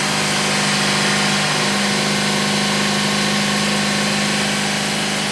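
A car engine revs and holds high, a loud, steady mechanical drone with no pauses or talk, while a mass airflow sensor is being tested.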